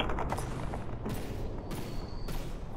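Frag missiles launching in the video game From the Depths, a dense continuous barrage of rumbling gunfire-like bursts and mechanical noise, loud and unbroken, with no talking.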